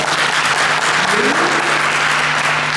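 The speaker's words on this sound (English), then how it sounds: "Can we give her a warm round of applause?" A warm round of applause from an audience welcomes a guest on an African talk show, a dense, steady wash of many hands clapping continuously and loudly with no voices over it.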